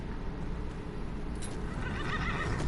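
Horse whinnying and clip-clopping hooves in Skyrim Anniversary Edition, a loud close neigh over steady game ambience with hoof sounds building toward the end.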